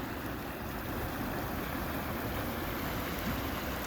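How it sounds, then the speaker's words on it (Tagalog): Steady rushing flow of a river beside a beach resort area, a constant broadband wash of water that stays even and moderately loud throughout, with no voices. "Namimiss ko na ang ganitong lagaslas ng tubig talaga."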